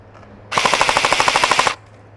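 An EMG Helios F4-Defense airsoft electric gun fires one sustained full-auto burst of about fifteen rapid, evenly spaced cracks. The burst is loud and close, lasts just over a second, and ends abruptly.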